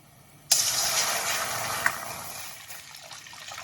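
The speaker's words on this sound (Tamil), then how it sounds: "ஸோ இப்போ பால் ஊற்றிடலாம்." Milk poured into a kadai for palkova, a sudden splashing pour starting after a brief quiet moment, then a steady liquid rush that gradually eases off, heard close with no talking.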